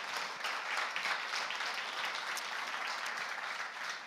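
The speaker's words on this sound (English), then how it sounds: "I think they deserve a round of applause." At a university entrepreneurship pitching competition, the audience applauds the contestants with a steady, moderately distant wash of clapping, fairly soft but continuous throughout.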